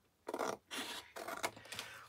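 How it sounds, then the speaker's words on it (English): Scissors cut along the edge of a paper journal envelope in three or four quiet, close snipping and rasping strokes, with short gaps between them. "Let's trim that edge off"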